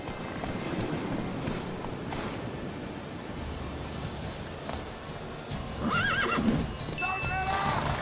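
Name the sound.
horse neighing and galloping in video game The Witcher 3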